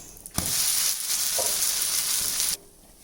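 Ragi finger millet dosa batter hits an oiled pan and sizzles loudly for about two seconds, a bright steady hiss close up that cuts off abruptly.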